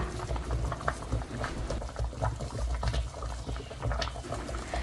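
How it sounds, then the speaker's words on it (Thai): Pork skin boils in a pot for pork cracklings, giving a dense, steady bubbling and seething with small popping patters throughout, fairly close and without any talk. "จากนั้นก็จะนำมาต้มค่ะนำมาต้มใช้เวลาอยู่ที่ 15-20 นาที"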